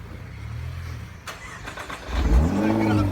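A car engine idles low, then revs up sharply with a loud, throaty exhaust roar that holds near and strong.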